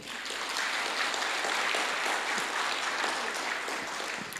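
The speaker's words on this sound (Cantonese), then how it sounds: "再一次嘅將掌聲歸俾我哋嘅主" A church congregation claps together during a Sunday worship service, producing a sustained, even crackle of many hands at a steady level throughout, with no speech over it.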